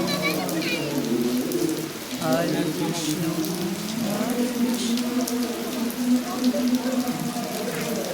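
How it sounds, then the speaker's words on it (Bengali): Steady rain falls outdoors during an evening prayer ritual, a dense continuous patter that runs under a voice chanting and speaking throughout. "বৃষ্টি আরম্ভ হয়ে গেল এখানে বৃষ্টি হচ্ছে দেখুন"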